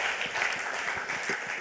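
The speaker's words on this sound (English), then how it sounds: "give the Rocket Badge guys a huge round of applause." Steady, dense applause from an audience at a hacker conference's lightning talks, a continuous wash of clapping held at even loudness throughout.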